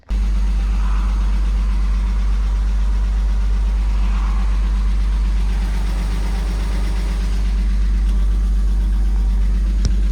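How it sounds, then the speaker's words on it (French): A Porsche competition car started for the first time after sitting in winter storage: the engine catches at once and settles into a steady, loud, deep idle that holds throughout with a faint higher whine above it. "Premier démarrage de la Porsche depuis le début de l'hiver."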